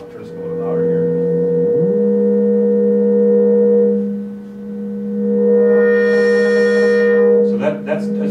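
A steady synthesizer tone holds its pitch while a filter's corner frequency is swept up and back down, adding and removing brighter overtones. The tone is loud and close, and a few brief sounds come at the end.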